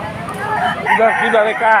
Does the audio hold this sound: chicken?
yes